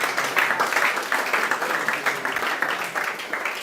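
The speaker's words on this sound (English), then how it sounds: "When you hear excellence, you can clap better, please." Sustained applause from a talk audience, dense continuous clapping at moderate loudness that ebbs and swells slightly throughout.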